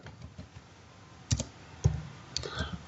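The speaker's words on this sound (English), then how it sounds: "So I'm gonna go to start typing driver" Keys clatter on a computer keyboard during a coding session, a few scattered light clicks followed by louder clustered key strikes, close by and with no talk over them.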